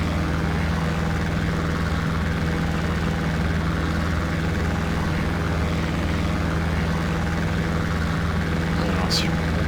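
A DR400 light propeller plane climbing after takeoff in the X-Plane flight simulator, its engine drone loud, steady and continuous throughout, with someone talking over it.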